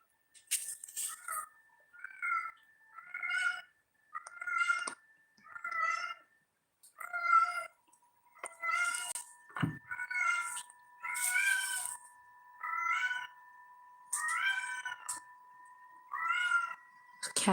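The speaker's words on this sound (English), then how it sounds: "Cats in the background meowing." Cats meow repeatedly in the background of a room where resin rings are being made, a steady series of drawn-out cries about once a second, moderately near.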